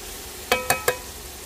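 Vegetables being sautéed in a pan while cooking buckwheat with homemade chicken, with three quick, evenly spaced stirring clatters over a faint background sizzle, close and brief.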